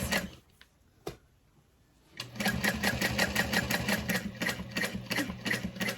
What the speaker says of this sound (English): Top stitching that in place.